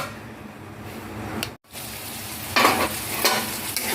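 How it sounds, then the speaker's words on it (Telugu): Medium onions frying in hot oil for chicken fry, a constant close sizzle with a brief dropout, then louder stirring bursts as the spoon moves them through the pan. "ఆయిల్ వేసి ఆనియన్స్ వేసుకున్నాను."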